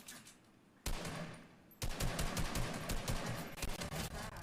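Rapid bursts of Fortnite gunfire in a video game, dense crackling volleys that kick in after a quieter opening second and carry on loudly to the end with no talk.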